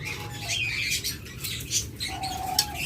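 Green opaline pet birds kept for sale chatter in a cage with rapid, overlapping chirps, squawks and wing flutters, close and fairly loud.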